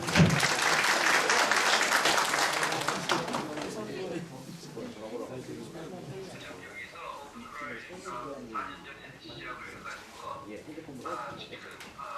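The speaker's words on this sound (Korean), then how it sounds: "일단 좀 박수 좀 부탁드리겠습니다" Audience applause breaks out at a Korean OpenFlow tech presentation, loud for about three seconds then fading into scattered claps under a speaking voice.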